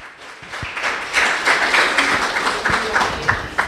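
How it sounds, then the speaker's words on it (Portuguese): A church congregation applauds for a few seconds, a dense, lively clapping that swells and stays steady at moderate distance, with faint voices beneath. "Você pode aplaudir Jesus por essa palavra?"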